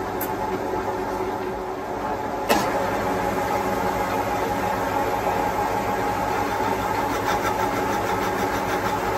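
A three-speed electric motor runs on its slow setting while facing off a Victorian basin fitting, giving a steady even hum with one sharp click partway through.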